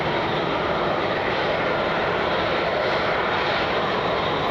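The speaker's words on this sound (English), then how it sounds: "jet that's inbound. Here's the Falcon." A Falcon 20 business jet comes in to land at Cleveland Hopkins airport at night, its engine noise a steady, broad roar that holds fairly loud and even for the whole stretch with no talk over it.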